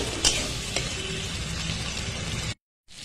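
Chilli and cumin paste fries in a pan with a steady sizzle, broken by a couple of scraping stirs, before cutting out briefly near the end and returning.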